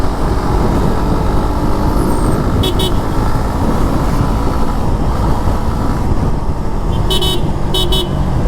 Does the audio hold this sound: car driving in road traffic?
yes